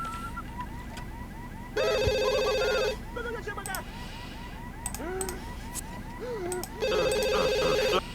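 A video game telephone rings in two loud electronic bursts, each lasting about a second, over a busy game soundtrack with scattered chimes and effects.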